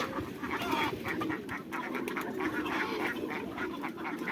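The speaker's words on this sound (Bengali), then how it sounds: "আর এই যে হলো আমাদের বেজিং হাঁস" Peking ducks on a farm with chickens nearby quack in a dense, continuous chorus of overlapping calls that sounds moderately distant and fairly quiet.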